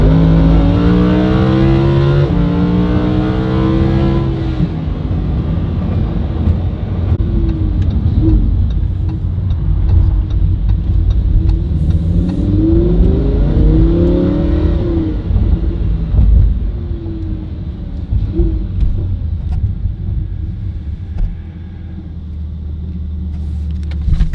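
Lamborghini fitted with a new aftermarket exhaust revving up close, loud rising and falling engine sweeps with deep rumble between pulls, ending in a lower steady idle.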